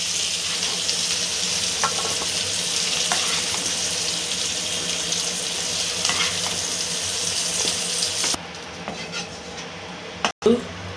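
Flat beans fry in hot oil in a pan for chutney, giving a continuous close sizzle that suddenly drops off near the end, followed by a brief clunk of cookware.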